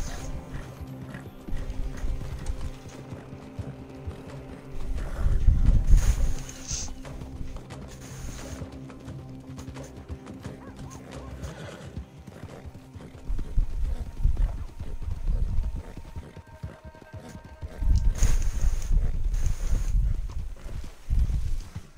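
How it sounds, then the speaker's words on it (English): A horse gallops in Red Dead Redemption 2 online, hooves clip-clopping in a steady, continuous rhythm that rises and falls in loudness across the stretch, with game ambience and occasional louder surges underneath. "Run, horsey! Run! Run!"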